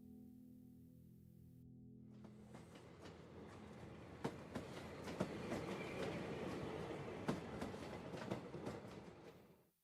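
A century-old rail funicular climbing a mountainside above 4,265 feet rumbles along with repeated metallic wheel clicks and clatter, building after a quiet start and then cutting off.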